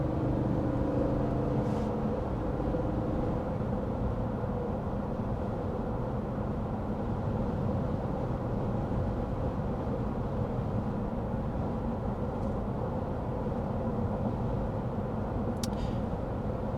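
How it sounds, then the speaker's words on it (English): Steady road and engine drone inside the cabin of a 2023 Lexus GX 460 cruising at 55 mph, a constant low rumble with broadband hiss that holds even throughout, with no talk. "we'll get up to 55 miles an hour so we can get our signature sound level reading"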